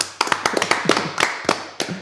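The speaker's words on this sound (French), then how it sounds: "Applaudissements pour lui, s'il vous plaît." Scattered, uneven hand claps, close and fairly loud, come from a studio audience greeting a guest on a French TV variety show, with no talking over them.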